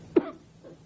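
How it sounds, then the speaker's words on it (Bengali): A single sharp cough from a man in a 2001 Bangladeshi TV drama, close and fairly loud, followed by a faint low trailing sound and quiet room tone. "যতই আটকাই কাশি ততই বাইরে হয়ে আসে,"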